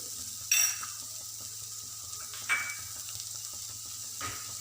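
Dragon chicken sautéing with salt in a pan, a steady bright sizzle with a couple of sharp spatula clinks and scrapes against the pan.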